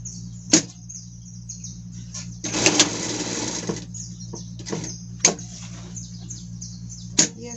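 A sewing machine stitches a pet skirt in short whirring bursts, with a longer run in the middle and sharp clicks in between, heard up close with no talking.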